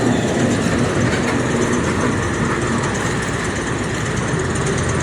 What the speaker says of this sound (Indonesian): Suara mesinnya berisik.